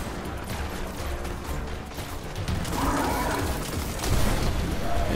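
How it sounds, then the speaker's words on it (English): In the video game Destiny, grenade explosions and gunfire clatter in dense, overlapping bursts, with rattling mechanical shots and deeper booms building toward the end. "Grenade, jump in the air for that explosion."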